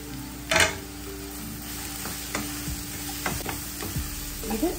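Chopped bottle gourd for a thoran hits hot oil in a pan, sizzling and frying steadily, with a sharp burst of crackle at the drop followed by scraping stirs.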